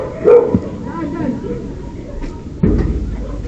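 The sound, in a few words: dogs barking at a gate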